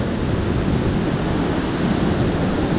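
Heavy water pouring over the spillway of a full dam after heavy rain makes a steady, loud broadband roar with no breaks, close and continuous throughout.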